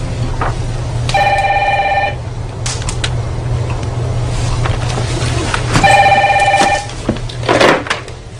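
A telephone bell rings in two long electronic trills separated by a pause of several seconds, loud and close over a low steady background hum.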